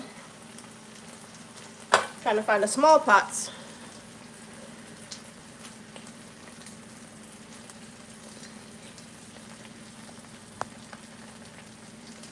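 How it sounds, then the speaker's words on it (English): Bacon and eggs fry in a pan with a steady, quiet sizzle that runs throughout, while a person speaks briefly and cookware clatters near the start. "I'm making some bacon and eggs here."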